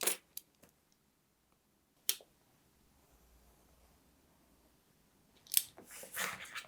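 Scissors trim paper for an accordion fold book, a few short crisp snips and paper rustles spaced apart in a quiet room, close and fairly faint.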